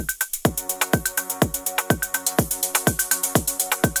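A melodic techno drum loop with steady, evenly spaced electronic kicks about twice a second, plus a crisp hi-hat pattern ticking between them. The beat is loud and repetitive and plays alone.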